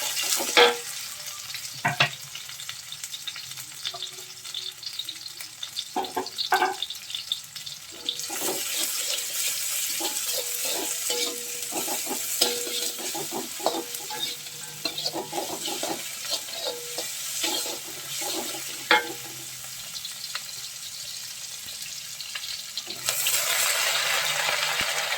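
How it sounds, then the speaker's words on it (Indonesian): Ingredients stir-frying in a pan for a simple Indonesian village dish, with a continuous sizzle broken by repeated scraping and clinking strokes of the spatula, plus a brief running-water stretch and no talking. "Nah ini ditumis sampai matang, nanti lanjut aku mau masukin si kangkungnya"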